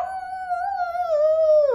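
A dog in a room lets out one long, mournful howl, loud and close, holding steady before sliding down into a short whimper at the end.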